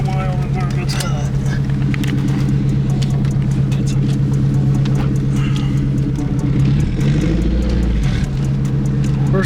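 A Derby car's engine runs steadily and loudly up close throughout its first drive, with a constant low rumble and a brief shift in pitch near the end as it pulls away.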